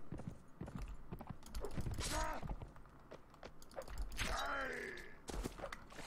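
Rhythmic clip-clop of horse hooves on hard ground in the video game Mount & Blade: Fire and Sword, steady and fairly near, mixed with a voice-like sigh and other game sounds.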